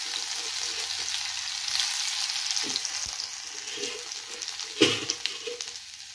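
Ginger dropped into hot oil for a pumpkin curry, a bright hissing sizzle that swells and settles, with scattered spoon scrapes and one sharp knock against the pan.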